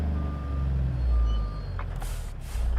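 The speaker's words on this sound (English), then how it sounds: "Yeah, just engine brake." In American Truck Simulator, a truck's engine brake gives a heavy, close low rumble that swells and eases, followed by short bursts of air hiss toward the end, with no one talking.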